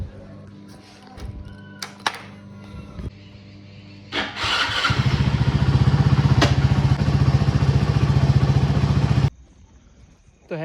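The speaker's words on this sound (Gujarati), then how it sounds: "તો હે ગાઈસ હવે નીકળી ગયો છું દૂધ ભરાવા મસ્ત એક્ટિવા લઈને" A Honda Activa scooter ridden out at night starts up, then its engine runs loud and steady for several seconds before cutting off abruptly.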